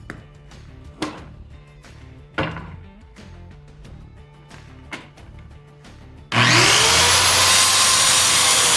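A handsaw cuts wooden boards for a rabbit hutch in several sharp, separate strokes, then a loud, steady power saw whines through the wood up close for the last few seconds.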